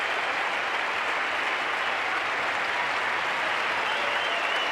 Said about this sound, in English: And an excellent ovation from the small crowd here at the SCG